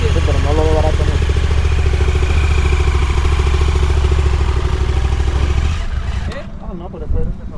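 Adventure motorcycle engine running loud and close on an off-road hill climb, a rough continuous rumble held steady for several seconds before dropping off to a lower idle, with voices talking over it.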